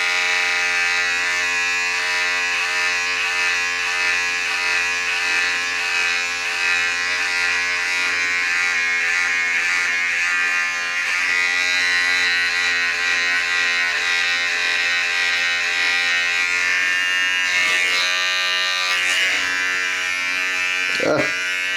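An electric hair clipper fitted with a 1 guard cuts hair during a low fade. Its loud, constant motor buzz holds steady and close for the whole stretch, with a few brief rattles near the end and no talking.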